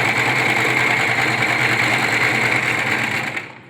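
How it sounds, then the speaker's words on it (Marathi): A Singer sewing machine stitches a picot edge on a saree with a steady, fast mechanical whirr and rhythmic needle chatter. It runs loud and close and continuously before winding down at the end. "आपलं कसं होतं पिको"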